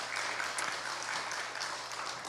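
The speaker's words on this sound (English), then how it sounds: "Let's give them another warm round of applause." A church congregation claps steadily for a band at a Sunday service, a warm, continuous round of applause filling the room at moderate volume.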